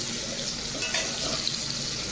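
A dense, even sizzle of potatoes frying in hot oil, close by and steady for a couple of seconds.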